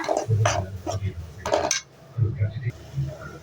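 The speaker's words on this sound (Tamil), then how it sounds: "தக்காளி ஆட் பண்ணி நல்லா வதக்கி விட்டுறலாங்க" Tomatoes sautéed in a pan with oil for an offal (kudal) gravy, heard as repeated metallic scraping and clinks of a utensil against the pan in short bursts, close and fairly loud, with a voice talking faintly in between.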